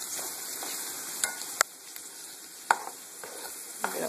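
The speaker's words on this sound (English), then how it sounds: "kind of stir it up in there and mix it up so we can get the flavor of the shallots" Shallots being stirred in a hot frying pan, a steady soft sizzle running under a few sharp clicks and taps of the spoon against the pan, with no voices.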